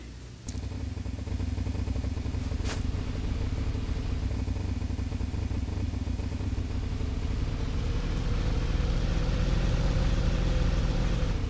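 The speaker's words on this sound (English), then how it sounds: "I'm going to get in my motorcycle" A motorcycle engine in the Roblox game Berry Avenue starts up and runs with a steady, low mechanical drone and hum for several seconds, close and even, with faint clicks at the start and no talking.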